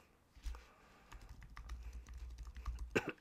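Quick clicking keystrokes on a computer keyboard, a soft irregular patter of taps building to a final louder burst, close and quiet with no voices.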